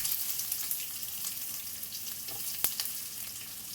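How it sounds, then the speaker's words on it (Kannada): Chopped onions fry in a pan with a steady, close hiss of sizzling oil, broken by one sharp pop near the end and no talking. "2 ಈರುಳ್ಳಿ ಕಟ್ ಮಾಡಿ ಒಳ್ಳೆ ಫ್ರೈ ಮಾಡಿ"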